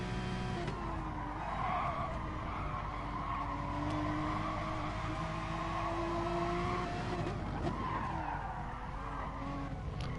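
A race car slides and skids in a sim racing series race, tires squealing in long wavering tones over a steady engine drone, continuous and fairly distant.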